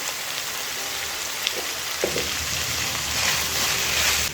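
Samosa filling seasoned with curry leaves and turmeric cooks over a medium flame, giving a steady close sizzle and hiss with a couple of soft scraping stirs, no voices.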